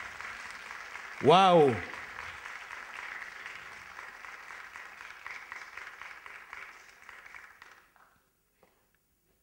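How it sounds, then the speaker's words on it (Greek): An audience at an outdoor concert in Syros applauds Evelina's children's choir. The clapping is fairly soft and sustained, then fades out and stops, and a single loud voice calls out near the start. "Ένα χειροκρότημα για την Ευελίνα και τα παιδιά."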